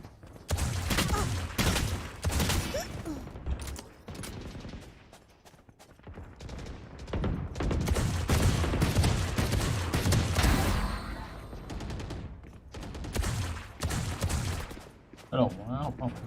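Valorant gunfire rattles in rapid bursts and sustained volleys, loud and close, with people talking over and between the shots.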